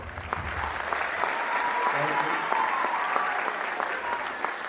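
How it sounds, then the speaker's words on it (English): A crowd at a middle school holiday concert applauds steadily throughout, a dense wash of clapping with a brief voice speaking over it. "we can round of applause"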